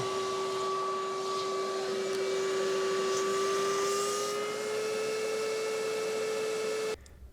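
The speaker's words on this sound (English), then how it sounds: "with a shop vac, I'm going to attempt to vacuum out the residual fluid" A shop vac sucks residual coolant fluid from the A/C lines of a 2003 Toyota Camry, a steady close whine with a strong tonal hum that drones evenly for about seven seconds before cutting off abruptly.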